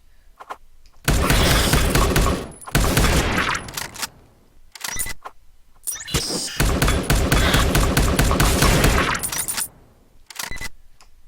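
The player's gun in the Neon Chrome video game fires in long loud automatic bursts while moving, broken by short silent gaps, with crackling, shattering impacts mixed in.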